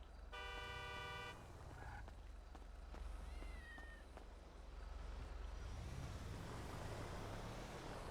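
Vehicle warning beep in a roleplay driving game, a short rapid harmonic beeping burst near the start over a constant engine drone, followed by a faint meow-like tone and road noise.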